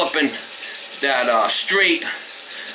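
Hot water runs steadily from a kitchen tap into a sink, a constant hiss heard beneath voices speaking close by.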